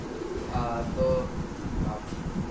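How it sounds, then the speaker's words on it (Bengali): Soft cooing from several pigeons in a loft, low murmuring calls repeating through the clip with some background noise. "চলে আসেন আমাদের প্রাণপ্রিয় রাকিব ভাইয়ের কবুতর লাফটে।"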